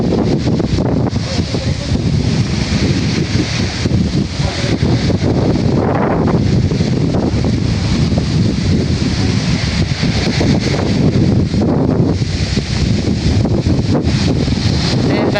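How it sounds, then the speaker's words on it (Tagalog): Strong wind roars steadily against the microphone, a loud continuous rumble with gusts, faint voices underneath. "Pero ang lakas ng hangin."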